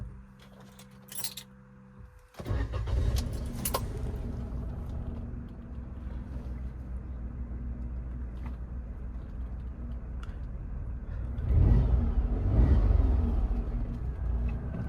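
Keys jangle faintly before a high-mileage Maruti Wagon R cranks and starts, settling into a steady petrol idle with a short revving swell near the end, nearby and unaccompanied by speech.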